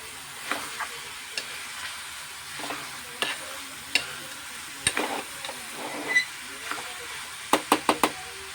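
Curry ingredients frying in a pan, a soft steady sizzle broken by irregular knocks and taps of a spoon against the pan, with a quick run of sharper clicks near the end.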